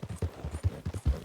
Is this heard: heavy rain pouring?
no